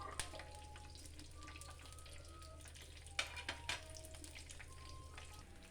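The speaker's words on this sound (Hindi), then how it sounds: "इन सब चीज़ों को हल्का हल्का फ्राई कर लेंगे।" Ginger and garlic frying gently in a pan over a low flame, a soft, quiet sizzle with a few faint clinks and stirring noises, no talking.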